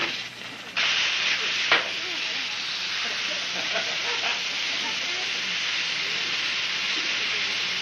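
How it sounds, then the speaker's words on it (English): Chicken pressure-frying, submerged in hot fat, gives a loud steady hissing sizzle that holds evenly throughout after a brief quieter start. "See, that chicken's completely submerged in hot fat"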